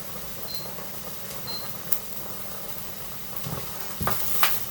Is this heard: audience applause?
no